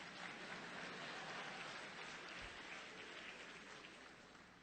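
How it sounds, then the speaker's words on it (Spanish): An audience at a talk on the future of public education applauds the framers of the constitution, a broad, even wash of many hands clapping at a distance, fading slightly toward the end. "aplausos a los constituyentes"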